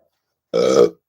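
A single short, close burp from a person who has just finished a sweet acai bowl, lasting under half a second and clear against silence.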